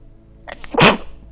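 A single sharp human sneeze bursts out close and loud after a brief intake of breath, standing alone in an otherwise quiet room.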